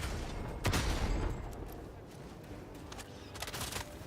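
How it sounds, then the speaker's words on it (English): Autocannon fire in Helldivers 2 during a high-difficulty mission: a few heavy, spaced shots with booming low thumps and sharp cracks, moderately distant and fairly quiet, with a brief lull between volleys. "Love the autocannon."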